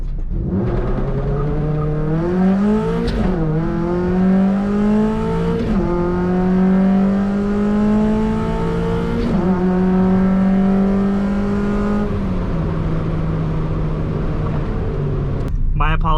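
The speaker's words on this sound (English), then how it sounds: "Let's get this thing out on the road and see just how slow a Miata really is." A Mazda Miata without nitrous accelerates hard on the road, its engine note climbing through several gears with brief dips at each shift, loud and close from inside the car, with voices over it.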